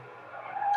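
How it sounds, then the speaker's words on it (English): A car does a short burnout on grass, with a rough engine roar and skidding tire noise that grows louder over under a second and ends in a thin squeal. "You burn out in that grass."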